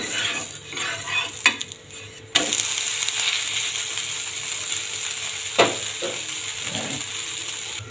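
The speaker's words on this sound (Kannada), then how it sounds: "ಸ್ವಲ್ಪ ಮೇಲೆ ಎಣ್ಣೆ ಹಿಂಗೆ ಈ ಥರ ಹಾಕ್ಕೊಳ್ಳೋಣ್ರಿ. ದೋಸೆ ಹಾಕ್ಬಿಡೋಣ್ರಿ." Black-eyed pea dosa batter sizzles on a hot oiled pan, a steady frying hiss after a sharp onset, with scraping and clinking utensil sounds close by.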